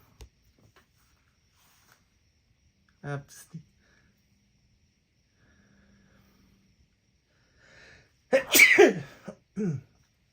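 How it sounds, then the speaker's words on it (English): A sharp sneeze bursts out in a quiet room, and a second sneeze-like burst comes a few seconds later, followed by a brief voice. "Couldn't stop from sneezing"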